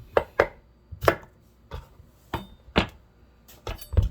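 A kitchen knife chops the ends off a cucumber on a cutting board, sharp distinct thuds in uneven clusters of one or two strokes, about ten cuts, close and crisp with quiet pauses between.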